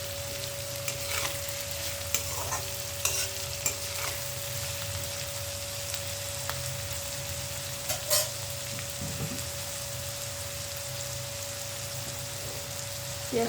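Onions frying in a pan with salt: a soft, steady sizzle with scattered crackles and occasional stirring clicks over a low constant hum, moderately quiet.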